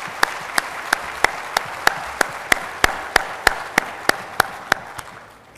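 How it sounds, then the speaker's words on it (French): A conference audience at MEDays 2013 in Tangier applauds the team with steady, evenly spaced rhythmic claps in unison over a soft background wash of hall noise. "qu'on les applaudisse parce qu'ils le méritent."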